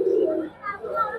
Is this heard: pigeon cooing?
yes